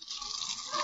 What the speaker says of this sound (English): And the gas stove's squirting water.